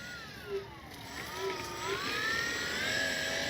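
A Dynam Beaver V2 RC plane flies past at a distance, its thin propeller and motor drone wavering in pitch as it turns, over steady outdoor background noise.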